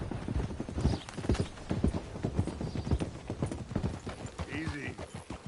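Horse hooves clip-clop steadily in the video game Red Dead Redemption 2, a rapid, close, rhythmic patter of several horses, with a brief whinny near the end.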